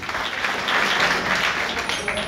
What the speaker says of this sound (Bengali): আমরা জোরে একটা করতালি দেই।